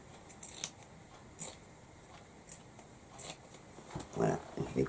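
Scissors snip through fabric while cutting out triangle ears for a handmade soft toy, several short crisp cuts spaced irregularly, fairly quiet and close, with a denser burst of snipping toward the end.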